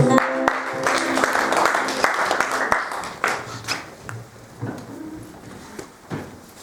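Congregation in a church service applauding in praise, a dense burst of clapping that thins out and fades into scattered claps and room noise.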